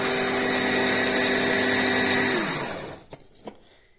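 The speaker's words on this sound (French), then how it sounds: "on prend notre mixeur, juste à poser ici et on appuie sur le bouton" A Philips Series 5000 immersion blender runs at a steady high whine for over two seconds, then winds down and stops, followed by a couple of faint clicks.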